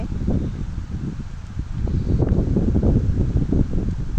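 Wind blowing through a village during light drizzle: a steady, fairly loud rushing and rustling that surges gently without pause and carries no voices.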